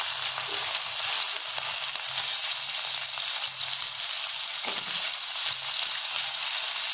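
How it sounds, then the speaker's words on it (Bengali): Prawns sizzling in hot oil in a kadai, a steady loud broadband fry hiss running throughout with no pauses, close and alone without talk. "এখন আমরা এই গরম তেলের উপর যোগ করে দিচ্ছি 100 গ্রাম চিংড়ি মাছ"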